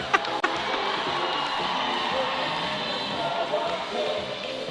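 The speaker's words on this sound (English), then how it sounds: "Oh, the crowd's loving it." Crowd cheering and whooping in an arena during a roller derby World Cup expo game halftime show, a steady roar at moderate distance with a couple of sharp thuds near the start.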